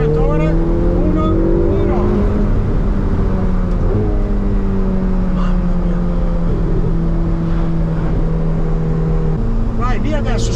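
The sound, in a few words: Ferrari 488 Pista engine accelerating on a test drive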